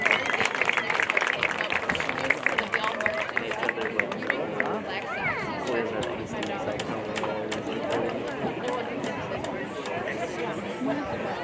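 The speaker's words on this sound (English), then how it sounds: "How about a great big round of applause for that Stratford High School band?" A football crowd cheers and claps for the Stratford High School band at the Colby at Stratford game, a dense roar of applause and chatter that stays loud and steady throughout.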